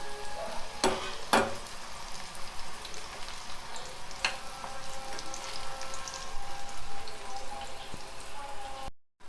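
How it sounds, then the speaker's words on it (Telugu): Bitter gourd pieces fry in oil in a pan with a steady, close sizzle and a few sharp clicks and scrapes as they are stirred. "ఇప్పుడు కాయలు వేగినాయి."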